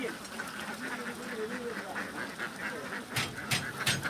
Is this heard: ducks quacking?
yes